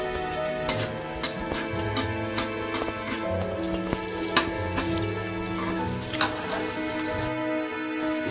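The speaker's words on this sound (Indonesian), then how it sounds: "Tumis dulu nih bawang putih bawang merahnya Lur." Garlic and shallots sautéing in oil in a pan, a steady crackling sizzle with occasional stirring clicks over a constant low hum, fairly close and even.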